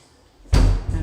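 A door at Monton Church swinging open with a heavy low thud and rumbling swoosh midway through, loud and close after a quiet start.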